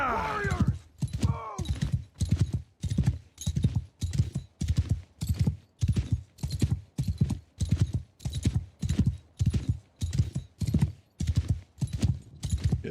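Horse hooves clip-clop at a steady, even rhythm in a Warhammer video game, each beat loud and close, running continuously for the whole stretch.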